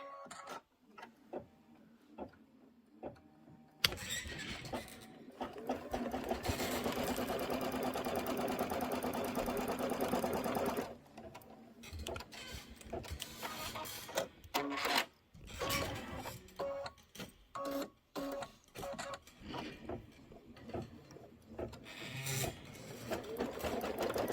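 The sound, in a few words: embroidery sewing machine stitching tack down on quilt block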